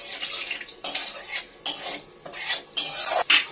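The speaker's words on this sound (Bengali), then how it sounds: "মশলাটা একটু নেড়ে নেব।" A spoon scrapes and stirs nigella seeds and spices in hot oil in a kadai, with a series of close metallic clinks and sweeping scrapes recurring every half second or so, no talking.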